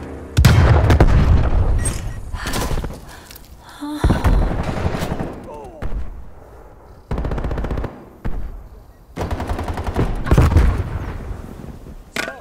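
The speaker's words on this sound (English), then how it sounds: "Throwing grenade." Gunfire and explosions from the Call of Duty Black Ops Cold War video game during a team deathmatch: rapid machine-gun bursts, sharp pops and heavy booms arrive in repeated loud volleys with short gaps between them.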